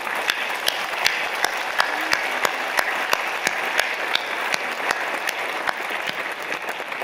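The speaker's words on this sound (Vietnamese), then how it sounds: "chúng ta cùng đứng để tạ ơn Chúa bằng một tràng pháo tay thật lớn" A standing church congregation at a Marian feast day gathering gives a big, sustained round of applause, loud and dense throughout, with a few sharp, closer claps punching out at a regular beat.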